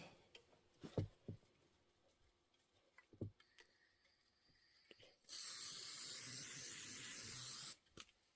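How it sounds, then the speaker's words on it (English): A few faint taps and clicks, then a steady, loud aerosol spray hisses for about two and a half seconds before cutting off. "I'm going to give it a little shot of spray and adhere it down"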